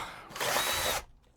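A power drill bores into metal while a van's heating and hot water system is being rebuilt: one loud, steady whirring burst of about half a second, then it stops into near quiet.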